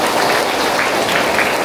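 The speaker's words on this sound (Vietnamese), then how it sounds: "Chúng ta cũng hân hoan chào đón ngài một tràng vỗ tay nhé" Steady, dense applause from a church congregation during a Catholic wedding mass at Bái Đô parish, filling the whole moment loud and even with no voices over it.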